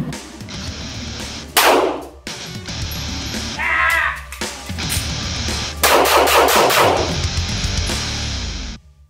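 Handgun being reloaded and fired by someone wearing winter gloves in a concealed-carry drill: several sharp loud shots spaced apart over nine seconds, with brief clicks and handling noises of the magazine change in between, and no talk.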